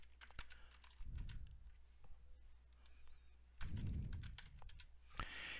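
A computer keyboard clicks in scattered, irregular keystrokes close by, quiet against a low room hum, with a couple of soft thumps mixed in and no talk.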